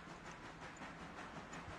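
Train engine rolling slowly in the railroad simulation game Railroader, a steady low rumble with faint rail clatter and hiss, moderately quiet and continuous with no talk.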